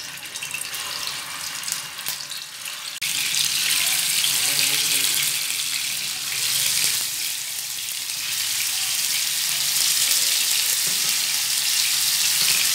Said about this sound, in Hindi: अब हम जो है ना गोला कबाब को अच्छे से फ्राई कर लेंगे